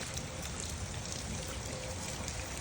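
Steady outdoor rain falling with water trickling and pouring nearby, a dense continuous wash of splashing that holds level throughout with no voices.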